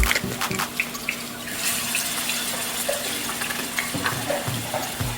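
Running kitchen sink tap as hands are washed after handling raw beef, a steady close splash of water with small clatters and drips throughout.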